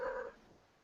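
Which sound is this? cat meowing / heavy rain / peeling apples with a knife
cat meowing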